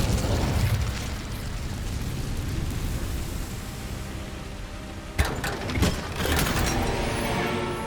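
A roaring, crackling burst of flame from the Incendio fire spell in Hogwarts Legacy rushes at the start, then sharper fiery pops flare a few seconds later, with no talking.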